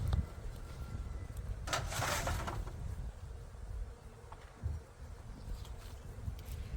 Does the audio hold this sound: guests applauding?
no